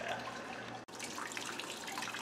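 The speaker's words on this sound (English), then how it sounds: "we're just sparging now with a little over 3 gallons of sparge water" Room-temperature sparge water pours steadily during a saison homebrew day, a continuous splashing wash broken by one brief cut partway through.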